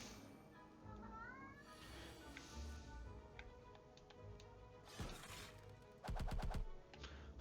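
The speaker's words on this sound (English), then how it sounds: "Sorry, my kitty is meowing." A pet cat gives a faint, rising meow in the background, mixed in with quiet clicks and sharp bursts of effects from a Slay the Spire card game running close by.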